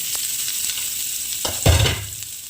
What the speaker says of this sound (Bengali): কুচি করা পেঁয়াজ আর কাঁচা লঙ্কাটা দিয়ে দেব